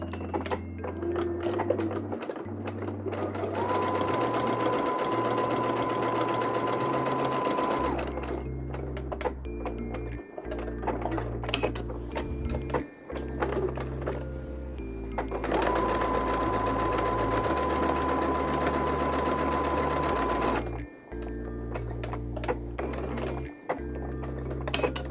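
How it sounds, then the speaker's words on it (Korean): A sewing machine topstitches a bucket hat, running 5 mm stitch lines along both sides of a seam to press the allowance flat. Steady mechanical whirring runs in long bursts, broken by short pauses between passes. "뒤집어서 방금 재봉한 재봉선 양옆을 5mm 간격으로 상침해서 시접을 눌러줍니다."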